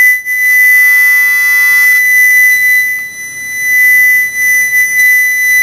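A loud, continuous high-pitched electronic beep from a UNI-T UTM 171A multimeter continuity test with probes shorted, steady tone with a few brief dropouts, close and piercing.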